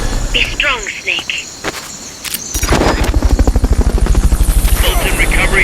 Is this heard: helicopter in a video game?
yes